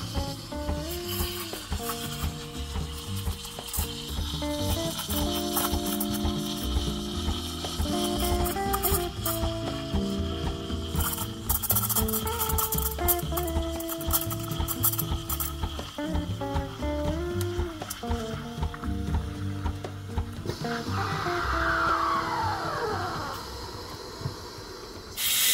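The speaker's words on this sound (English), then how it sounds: "We're gonna steam some milk and put a cappuccino together." A Lelit Bianca V3 espresso machine's steam wand steams milk for a cappuccino, giving a continuous hiss and gurgle that runs steadily for about twenty-five seconds, its pitch shifting as the milk heats and stretches.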